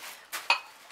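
Pink dinnerware plates being handled, two brief clinks of ceramic dishes knocking together, close and fairly faint, with quiet pauses between.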